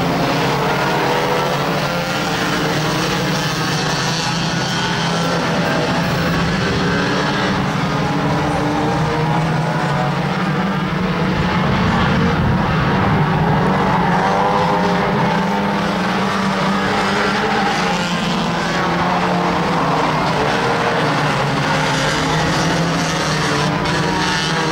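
Banger racing cars, including 4x4 SUVs and Reliant Robins, roar around a Kings Lynn oval in a loud, continuous engine drone that swells and fades as the pack laps.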